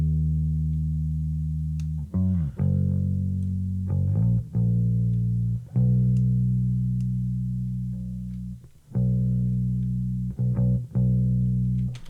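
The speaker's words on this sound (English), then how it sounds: "this is bass guitar that I recorded into a Kemper amp profiler and also using like a Fender Jag bass" Distorted bass guitar from a Fender Jaguar bass recorded through a Kemper amp profiler, playing sustained crunchy notes in short phrases with brief gaps between them, loud and close with no talking.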